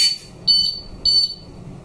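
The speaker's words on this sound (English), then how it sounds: "If someone tries to cut the chain with a saw, the warning alarm will sound." Top Secure TS021 alarm padlock sounding its warning alarm: a shrill electronic beep repeating in short, evenly spaced bursts, loud and close, with quiet pauses between them.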